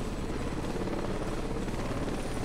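A helicopter in the combat game Heliborne roars steadily and loudly, a dense, continuous rotor and engine wash with rapid throbbing, heard alone.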